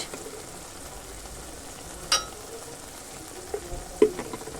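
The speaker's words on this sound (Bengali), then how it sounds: "মশলাটা ভালো করে কষিয়ে নিই" Spice masala with cumin powder fries in a pan for a fish curry, a soft steady sizzle close by, broken by a few spoon taps and clinks against the pan.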